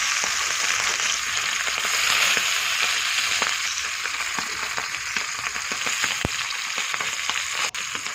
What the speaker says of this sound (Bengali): আমি দুটো বাটা মাছ ভেজে নিচ্ছি